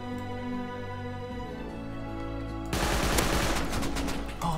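AK rifle fire in the survival game Rust: sustained rapid automatic bursts come in abruptly and grow louder over a droning, tonal game background.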